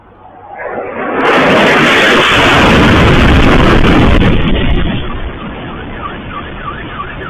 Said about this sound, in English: a lot of car alarms going off.